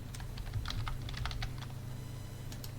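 Rapid keystrokes clatter on a computer keyboard, a quick burst of typing followed by a pause and a few more taps, close and clear.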